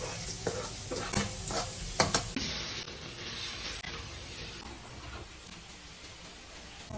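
Onion and garlic sautéing in a pan, a dense sizzling hiss with a few stirring scrapes early on, then a steady frying sizzle settling down, close and moderately loud with no talk.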